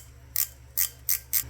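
A 7/16 wrench working the bolts on a 1972 Johnson 9.5 outboard gives four short, sharp metallic clicks spaced unevenly, close by and fairly quiet, with no talking.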